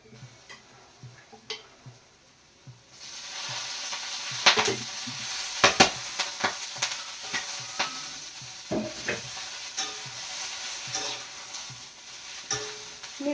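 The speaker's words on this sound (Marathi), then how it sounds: "मिरच्यांना जोपर्यंत थोडेसे डाग पडत नाहीयेत तोपर्यंत असं फ्राय करून घेते मी" Green chilies frying in a little oil in a pan, a soft sizzle that rises after a quiet start, with scattered sharp pops and ticks from the chilies and occasional stirring.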